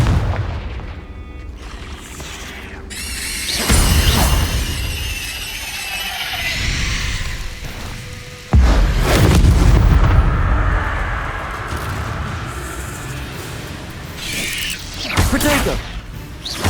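Confringo spell blasts in the Hogwarts Legacy game, heavy booming explosions bursting loud and near, several in sequence with rumbling tails, mixed with effects and voices.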